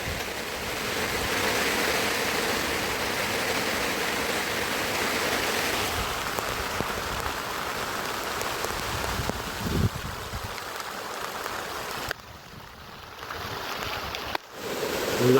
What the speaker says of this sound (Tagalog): Ang lakas ng ulan ha, ang lakas ng ulan.